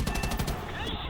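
Rear gunner's machine gun firing in the War Thunder game from a Beaufort Mk VIII gunship, a quick rattling burst of closely spaced shots over roughly half a second, loud and close, fading into engine rumble.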